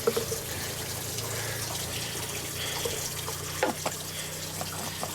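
Spring water flowing from the ground runs steadily in a continuous broadband wash, with a few brief drips and splashes near the end, moderately close and unaccompanied by talk.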